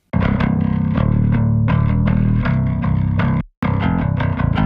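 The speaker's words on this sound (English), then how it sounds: "I've added some harmonics to the bass and some distortion as well" Heavy distorted bass guitar through a Darkglass plugin with added harmonics, playing a chugging riff, thick and gritty with processed overtones, with a brief dropout near the end before resuming.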